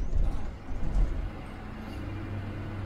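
A party bus being converted with seats and TVs cruises along the road, its engine and road rumble a low, steady drone heard from inside the cabin, with a few louder thumps early on.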